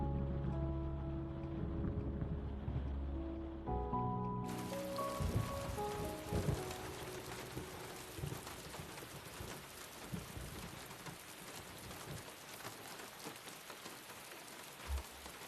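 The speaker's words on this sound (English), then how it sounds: "That rain sounds nice." Rain falls steadily with scattered drops and distant thunder, a broad constant patter that starts softly under music then swells suddenly into a full, loud downpour.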